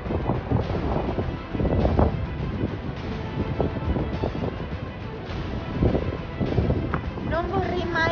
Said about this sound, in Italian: Oggi tira un po' di vento, il tempo non è dei migliori